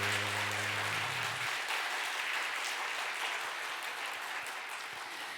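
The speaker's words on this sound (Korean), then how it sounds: "자, 우리 너무 잘했다고 마음 담아 힘차게 박수" Sustained applause from a church congregation during a Sunday worship service, steady and fairly loud for the whole stretch, tapering slightly at the end after a brief low tone at the start.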